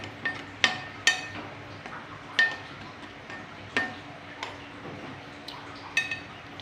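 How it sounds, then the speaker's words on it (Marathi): A small spoon stirring boiling milk in a pot, giving sharp, scattered metallic clinks against the pot rim at irregular intervals over a low bubbling background, close and without speech. "दुधला 5-10 मिनिटांना असं हलवायचं"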